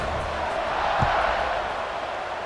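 Broad, steady roar of a large stadium crowd at a college football video game, a dense wash of distant voices with a brief shout rising near the middle.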